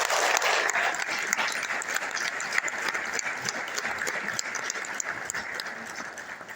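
Sustained applause from an audience honoring parents who opened schools for autistic children, dense steady clapping throughout at moderate loudness with no speech.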